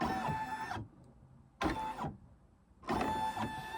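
An embroidery machine stitches a snowman design in three quick bursts of rapid mechanical whirring, each under a second, separated by short pauses, close and clear without speech.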